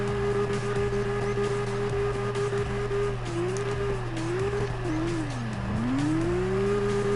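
Horizon GT4 car engine drifting in the CarX Drift Racing video game: a loud, steady revving drone that holds pitch, then dips and swoops several times as the car slides, and finally climbs back up.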